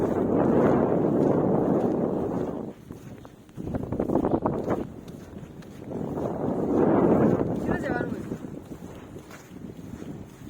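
Strong wind sweeps across open ground near the sea. It roars and buffets close up in loud gusts, with short lulls between them.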